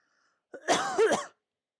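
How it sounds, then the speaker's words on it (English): A single short cough or throat-clearing, close and fairly loud, with a brief rough burst after a moment of silence. "Cough, cough."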